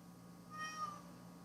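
A house cat named Miss Brat gives one short, soft meow, close by and quiet over a low background hum.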